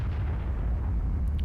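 An RHM tank destroyer's gun fires in World of Tanks, leaving a loud, deep booming rumble that rolls on steadily without a break.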